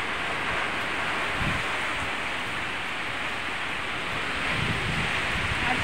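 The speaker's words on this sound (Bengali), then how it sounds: "ভীষণ জোর বৃষ্টি হচ্ছে" Heavy rain pours down in a steady, dense wash of noise that holds at an even level throughout, with no voices.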